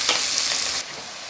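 Onion and green chillies frying in oil as they are stirred, a brief bright sizzle with a quick scraping stir that drops to a softer hiss.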